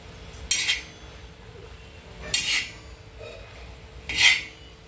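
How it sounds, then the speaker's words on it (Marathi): Spoon or spatula stirring tandulja (amaranth) leafy greens in a pan, tossed up and down to mix in salt for a traditional griddle dish, giving three short scraping clinks spaced over a few seconds against quiet background. "चांगलं मिसळून घ्यायचं असं खालीवरी खालीवरी करून झाकून ठेवायचं"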